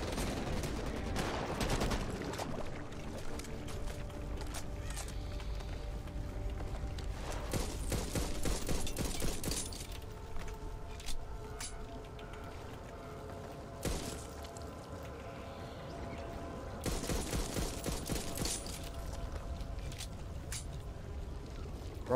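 Bursts of automatic gunfire from the shooter game Back 4 Blood come in repeated rapid volleys separated by quieter stretches, loud and close, with brief thuds and mechanical clicks between bursts.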